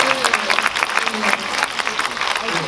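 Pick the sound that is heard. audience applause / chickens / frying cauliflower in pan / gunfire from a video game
audience applause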